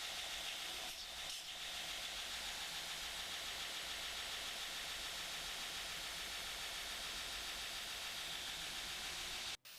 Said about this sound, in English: You can also use the belt sander to finish off that top edge to make sure that the bolsters and the tang of the knife and the scales are all kind of even